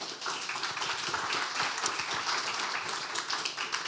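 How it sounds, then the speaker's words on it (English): Sustained applause from a meetup audience, dense and steady clapping from many hands throughout, fairly close and moderately loud with no talk over it. "One more applause."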